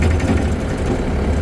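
A CFG KU45 tracked machine runs at a raised RPM in fast travel, a steady low engine drone with a rumbling track clatter, continuous and fairly close, with no speech.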